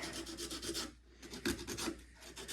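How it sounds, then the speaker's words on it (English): Sandpaper rubs a wooden longbow tip in quick back-and-forth strokes, a close, steady rasping with a brief pause midway. "Now I'm going to take a piece of sandpaper just like normal"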